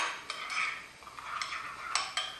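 A burger topping mixture is stirred in a bowl, giving a run of close scraping and light clinking strokes with a few sharper taps, steady and unaccompanied by voices.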